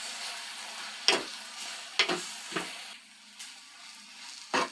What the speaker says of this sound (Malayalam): തുറന്ന് നമുക്കൊന്ന് ഇളക്കാം.